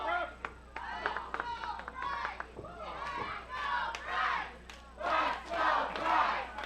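Wrestling crowd at an AEW match roaring and chanting in waves, with shouts and scattered clapping swelling louder toward the end, under a commentator's voice.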